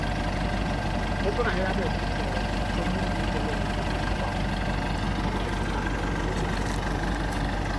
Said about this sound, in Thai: อันนี้เป็นรถไถแรงปรับหน้าดิน ปรับสภาพดิน